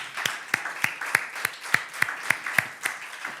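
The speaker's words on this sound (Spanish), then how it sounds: "¿Alguien quiere darle un aplauso a este candidato?" Sparse applause from a church congregation during a sermon, about a dozen distinct, evenly spaced claps sounding fairly near, with no talking over them.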